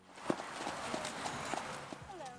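Horses coming in at a run across someone's farm, their hooves thudding and clip-clopping in an irregular, uneven patter at moderate distance, with a faint whistle-like tone near the end and some background voice.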